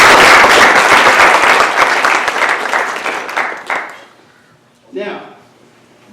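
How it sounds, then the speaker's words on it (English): Loud applause from a college Phi Theta Kappa ceremony audience, dense clapping that thins and fades after about four seconds, followed by a brief burst of voice and scattered noise near the end. "A big round of applause."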